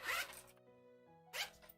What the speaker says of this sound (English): There, a little ASMR for zippering.